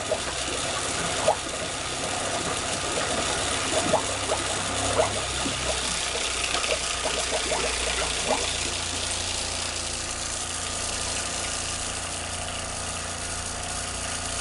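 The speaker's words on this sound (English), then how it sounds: "that is pumping water around, and I need to stop that pipe coming out and above the water level" A faulty boat water pump runs steadily close by, a constant mechanical hum under gurgling, splashing water as it pushes water around, with no talk.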